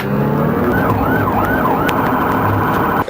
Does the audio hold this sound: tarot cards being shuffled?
no